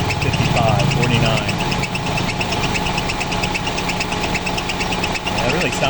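A tractor engine runs steadily with a failing air compressor, a loud rhythmic mechanical clatter and knocking over a dense idling drone, with a voice talking over it.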